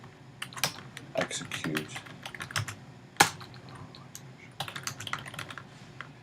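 Someone types on a computer keyboard while writing Python code, producing a steady run of quick clicks with a louder single key strike near the middle, close up, with a brief spoken word in between.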